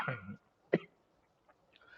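A single sharp cough sounds close by in a quiet room, with a brief throat sound just before and faint vocal noise after.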